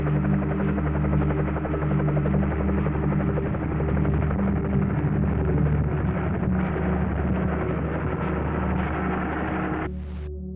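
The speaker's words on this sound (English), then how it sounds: "he boarded a helicopter for a 30-mile trip" A helicopter carries a passenger on a 30-mile flight out to an island, its rotor and engine droning loudly and steadily throughout, with a brief change near the end.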